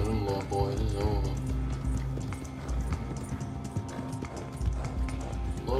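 A horse gallops in Red Dead Redemption Online, steady rapid hoof clip-clops with a whinny, under continuous game sounds and someone talking throughout.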